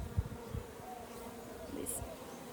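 Honeybees flying in and out at a hive entrance, a faint steady buzzing with a few low thumps and handling noises.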